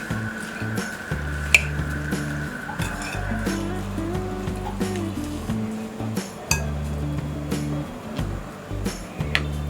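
Metal spoon clinking and scraping against a bowl while oil is stirred into rice flour batter, with steady repeated taps and a faint hum beneath.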